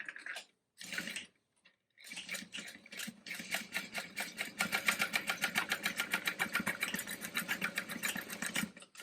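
A sewing machine stitching a bag starts in a few short bursts, then settles into a fast, evenly pulsing run of stitches, close and clear, with no voices over it.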